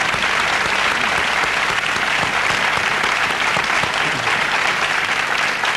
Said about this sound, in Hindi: 25 लाख रुपए का चेक तालियों के साथ मैं इन्हें पेश करने जा रहा हूं